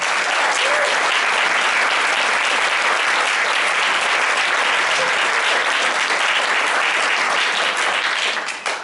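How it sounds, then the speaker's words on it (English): Sustained, dense audience applause at a high school senior choral awards event, loud and even throughout before dropping off abruptly at the very end. "Will you give them a round of applause, please?"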